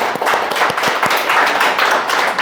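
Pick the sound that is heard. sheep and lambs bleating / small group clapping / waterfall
small group clapping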